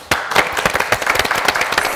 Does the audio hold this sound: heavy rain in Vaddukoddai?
no